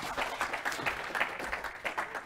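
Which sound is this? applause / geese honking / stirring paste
applause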